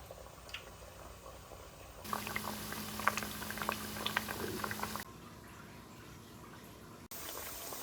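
Parippu vada (lentil fritters) frying in hot oil, a steady bubbling sizzle with crackling pops that grows louder midway, then settles back to a quieter simmer.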